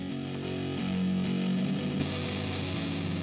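Distorted rock electric guitar on a mid-channel track, one of two tones from the same take, playing a sustained, thick, saturated chord tone that holds steadily throughout with no voices.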